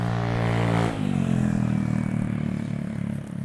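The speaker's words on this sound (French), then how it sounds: "Ah, c'est un scooter. Je pensais que c'était une grosse moto." A scooter passes close by outdoors, a loud, droning motor that shifts tone about a second in, then holds a rough, rattling hum as it moves on.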